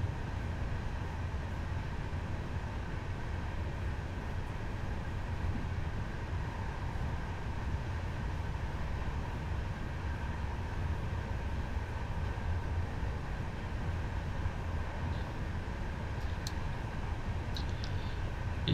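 A steady, even rumble of a train running from Berlin Hbf toward Jüterbog in Train Simulator 2022, with wheels and motors droning continuously at moderate volume and a few faint high clicks near the end.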